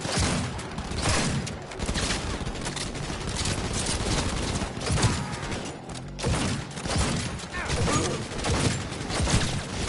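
Dense, continuous gunfire from a firefight in the video game Cyberpunk 2077, loud bursts and thuds layered throughout with shouting voices mixed into the battle.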